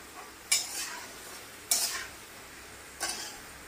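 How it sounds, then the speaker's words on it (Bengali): Carrots and beans sautéing with a little salt in a pan: three sharp scraping stir strokes spaced about a second apart stand out over a low, quiet background sizzle. "তার জন্য আমি এখানে ভালো করে সবজিটাকে ভেজে নিই।"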